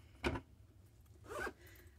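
A zipper on a bag's large front pocket is pulled shut in two quick, quiet strokes, a short rasp followed by a longer one, with nothing else heard around them.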